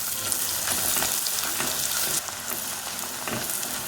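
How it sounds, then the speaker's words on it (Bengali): Chopped garlic stirred into onions frying for duck adobo, a steady close sizzle with light scraping strokes of a spoon across the pan and no voices. "এটাও এবার পেঁয়াজের সাথে মিশিয়ে দেব"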